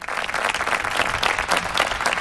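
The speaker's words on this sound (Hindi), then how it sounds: "लोगों ने तालियों से उनकी सत्यता को सराहा" An audience bursts into sustained, dense applause, a continuous wash of many hands clapping close and loud for the full stretch, with no voices above it.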